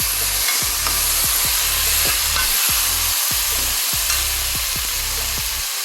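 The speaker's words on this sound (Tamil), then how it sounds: "தக்காளி போட்டு வதங்கிட்டு நல்லா பாருங்க" Chopped tomatoes sauté in a hot pan for mutton curry, a loud continuous sizzle broken by repeated rhythmic scraping stirs, close by and with no talking.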